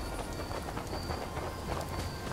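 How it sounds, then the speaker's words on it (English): Rain falls steadily with low rumbling thunder during a storm in the video game Fallout 76, a continuous hiss of downpour with deep rolling undertone, no voices. "It's starting to rain."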